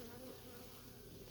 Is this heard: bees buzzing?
yes